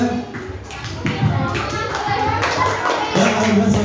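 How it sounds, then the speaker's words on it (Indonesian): A classroom of students applauds a group invited to the front. Rapid, dense hand clapping is fairly loud and close, with some shuffling and a few children's voices mixed in. "Tepuk tangan untuk kelompok 2."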